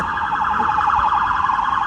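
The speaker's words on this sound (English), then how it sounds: "Doesn't anyone miss the sounds of very loud sirens in New York City?" A loud New York City siren wails continuously and close, its rising and falling tone cycling rapidly with no speech over it.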